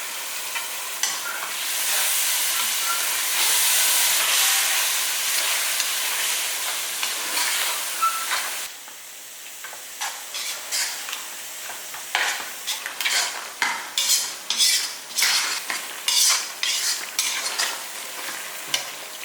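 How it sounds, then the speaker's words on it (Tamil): A pot of biryani gravy with yogurt, tomatoes and whole green chillies boils and sizzles on the stove in a steady hiss. Midway it turns into choppy bursts of bubbling and stirring. "இப்போ எல்லாமே போட்டு நல்லா கொதிச்சிட்ருக்கு, உப்பு எல்லாம் போட்டு கொதிச்சிட்ருக்கு"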